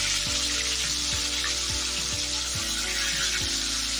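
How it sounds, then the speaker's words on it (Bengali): Fish sizzles steadily in hot oil for a Bengali katla fish curry, a dense, even frying hiss that runs without a break, with low knocks recurring at regular intervals beneath it. "তেল গরম হয়ে গেছে। এখন আমি মাছ ভেজে নেব।"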